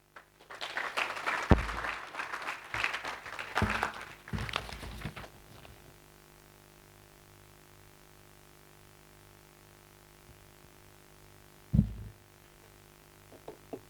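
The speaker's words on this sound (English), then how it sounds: "Let's give a round of applause." Clapping from an audience at an international pharmacy research conference rises in a dense burst for a few seconds, then fades to a quiet room hum, with one short sharp knock later on.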